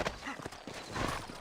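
Horse hooves clip-clop in the video game Red Dead Redemption, a quick series of soft, fairly close hoofbeats over a low game background.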